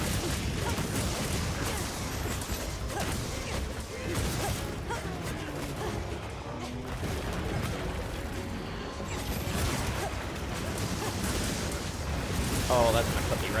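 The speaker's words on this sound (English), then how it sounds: "Oh, that's gonna put me right in the explosion." Explosions during a Monster Hunter game hunt, heavy booming blasts and mechanical clatter rumbling in a dense, continuous mix of in-game effects at moderate level.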